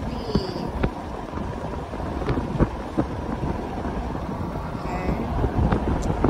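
Strong, cold wind buffets the microphone outdoors in Winnipeg, Manitoba, a steady broadband rumble with gusty swells running throughout, while a person speaks briefly over it.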